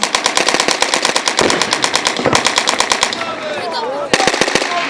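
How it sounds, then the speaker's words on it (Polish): Rapid bursts of automatic gunfire at a battle reenactment of the Westerplatte defence, loud and close, with sharp repeated shots in clusters and a brief lull before a final volley. "Ostatnie strzały."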